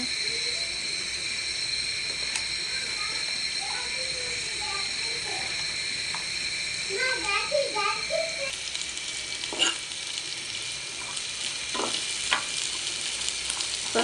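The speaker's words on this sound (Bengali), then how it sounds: "পেঁয়াজটাকে ভালো করে একটু লাল লাল করে ভেজে নিতে হবে।" Onions fry in oil in a pan for a fish curry, giving a steady close sizzle throughout, with soft stirring scrapes and occasional sharper pops toward the end.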